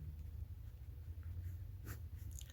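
Marker or chalk scratching out a formula on a classroom board, faint and steady over a low room hum, with a slightly louder stroke near the end.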